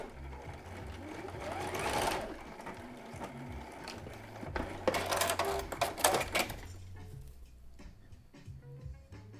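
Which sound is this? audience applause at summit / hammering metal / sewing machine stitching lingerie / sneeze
sewing machine stitching lingerie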